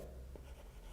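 Handwriting during a computer science lecture on proving a path problem NP-complete: a second of continuous, close scratchy strokes with brief louder scrapes, steady and fairly loud, with no talk over it.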